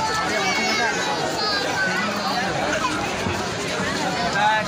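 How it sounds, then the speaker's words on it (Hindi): Large crowd at a ghat in Varanasi, a steady dense babble of many voices close and loud throughout, with no single voice standing out. "भीड़ बहुत ज़्यादा है"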